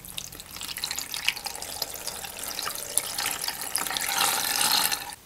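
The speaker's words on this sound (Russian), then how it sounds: "ну и заливаем нашу рыбу" Brine is poured from a container over mackerel, a soft, continuous splashing and trickling of liquid that builds slightly toward the end, quiet and close, with no voices.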